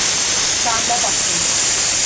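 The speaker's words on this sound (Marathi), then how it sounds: "कांदा चांगला परतते." Onions fry in hot oil in a kadhai with a soft, continuous hiss, heard close under a woman's speech.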